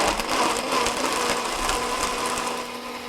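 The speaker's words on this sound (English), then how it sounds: "we're going to puree or pulse, which you can do on the blender or your food processor" A blender or food processor pulses chocolate chips for brownies, giving a steady, fairly loud whirring chop that runs without a break, easing slightly near the end.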